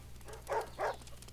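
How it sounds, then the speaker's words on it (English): Two quick dog barks, close and moderately loud, sound in the strategy game Wargroove over a low steady hum. "Oh boy, the dog."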